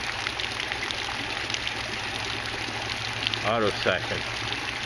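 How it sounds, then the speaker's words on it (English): Water pours steadily into an aquaponics tank with a continuous close trickling, splashing rush. Someone speaks briefly over it near the end. "where this water's coming in, it's coming in right over top"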